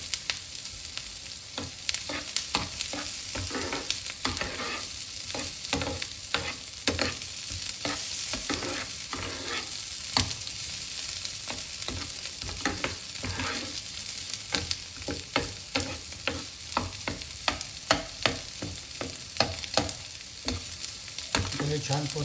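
Already-boiled potatoes and green chillies fry in a pan, giving a loud, constant sizzle broken by frequent scraping stirring strokes close by, with no voices.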